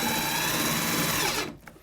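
A power drill drives self-drilling deck screws through a bathtub flange into the wall: a loud, close, steady whine that holds for over a second, then cuts off abruptly, followed by a faint clack.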